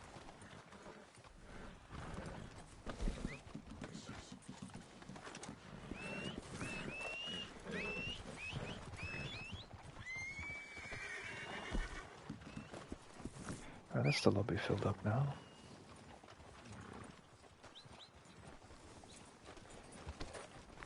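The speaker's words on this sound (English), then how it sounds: "That's my horse." Horse hooves clip-clop in Red Dead Redemption 2 Online. Soft hoofbeats and horse noises sit under near, continuous talking for the whole stretch, with a louder burst of movement partway through.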